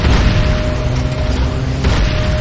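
A structure in the video game Renegade, Nod's Hand of Nod, blows up with a loud sustained booming rumble and mechanical crunching that stays dense throughout, swelling again near the end.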